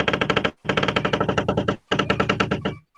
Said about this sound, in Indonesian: berkarat gitu ya, itu mungkin cocok banget ini untuk game-game horror.